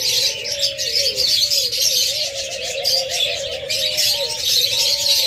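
A pair of doves coo in steady, repeated calls close by, over a constant hiss of background noise.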